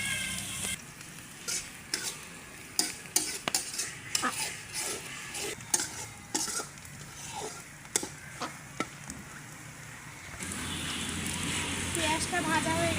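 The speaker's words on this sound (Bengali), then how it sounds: "পেঁয়াজটা ভাজা হয়ে গেছে" Onions fry in a pan for chicken kosha, with sharp, irregular clanks of a spoon scraping and stirring over a close sizzle that swells into a steady, louder hiss near the end, people speaking intermittently.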